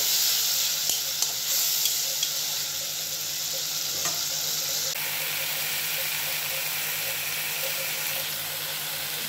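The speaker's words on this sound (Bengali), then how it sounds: "তখন দিয়ে দেব বেটে রাখা টমেটো বাটা। খুব ভালোভাবে কষিয়ে নেব।" Tomato paste being stirred and fried with spices for a Bengali hilsa fish curry, a steady close sizzle and hiss with scraping stir strokes throughout, no voices.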